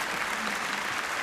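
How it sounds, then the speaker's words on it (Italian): Audience at a 1969 comedy performance bursts into dense, even applause, a thick unbroken roar of many hands clapping close and full for the whole moment. "applauso"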